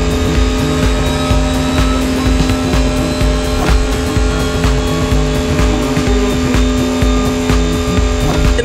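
Mercedes EQ Silver Arrow, a fully electric concept car, driving in The Crew Motorfest racing game during a supercar festival race, giving a steady, loud, continuous drone with layered tonal whine throughout and no talking.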